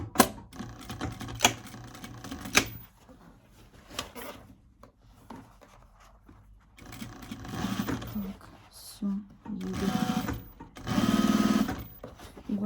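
A sewing machine stitches a handmade leather bag's lining to its seam, running in several bursts of close, steady mechanical whirring and clatter separated by quiet pauses.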